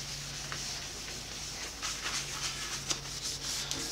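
Boeshield T-9 being rubbed into a cast iron table: a steady, close, hissing friction sound with uneven back-and-forth strokes that grow slightly stronger toward the end.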